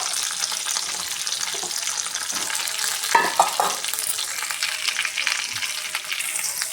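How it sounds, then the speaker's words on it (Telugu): Green chillies and grated coconut frying together in a pan, a steady close sizzle with faint stirring scrapes and a brief louder burst near the middle, no voices. "ఫస్ట్ అయితే కొన్ని పచ్చిమిర్చి ఫ్రై చేసుకోవాలి"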